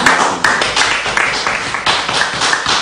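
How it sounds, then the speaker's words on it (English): Rally crowd applauding the organizers of Omoyele Sowore's 2019 campaign, a dense, loud wash of many hands clapping steadily throughout with some crowd voices mixed in. "Please give the round of applause to the organizers"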